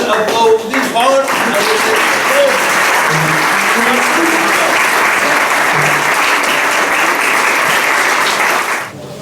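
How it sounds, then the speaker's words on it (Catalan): A crowd at a vermouth gathering with a singing group breaks into loud, sustained applause lasting about nine seconds before dying away, some cheering voices mixed in. "Jo trobo que val la pena aplaudir fort a"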